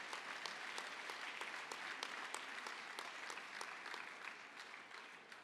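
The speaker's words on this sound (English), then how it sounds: "Would you give them a round of applause?" An audience claps for contestants at a finals event and auction, a dense, even applause heard at a distance and fading slightly toward the end.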